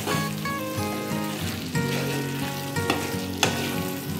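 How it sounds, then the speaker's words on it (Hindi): Chicken frying over a medium flame, a loud dense sizzle running throughout with a few stirring scrapes and knocks from the utensil against the pan. "इसे हमें मीडियम फ्लेम पे ही भूनते रहना है"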